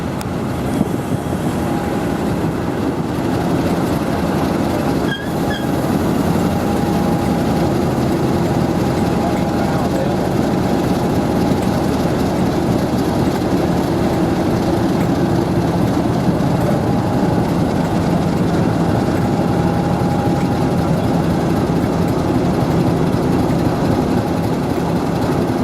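A double-headed train hauled by locomotives 50007 Hercules and 50050 Fearless rumbles steadily for a long stretch, a loud continuous engine drone with a faint tonal hum and a brief click partway through.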